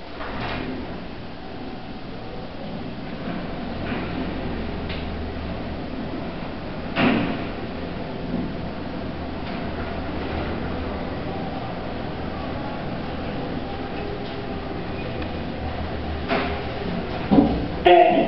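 A glass lift in a Manchester shopping centre hums and rumbles steadily as it travels between floors, with a few soft clunks along the way and a louder door-mechanism knock near the end.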